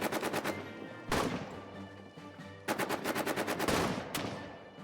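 Machine gun fire rattles from a machine gun post in a trench warfare video game, rapid bursts of evenly spaced shots in several volleys, loud and close with no voices.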